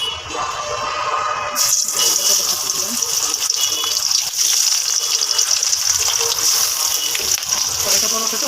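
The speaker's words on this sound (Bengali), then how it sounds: "তেলটা ভালো করে গরম হলে তারপরে মাছ দিয়ে দিই" Pabda fish, rubbed with salt and turmeric, drop into well-heated oil in a karai. After a brief quiet moment, a loud, dense sizzle bursts in and keeps crackling steadily and close up until the end.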